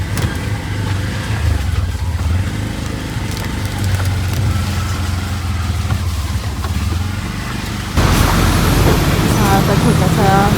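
An auto rickshaw rides through road traffic, its engine droning loudly and steadily up close with surrounding road noise, growing rougher and louder toward the end.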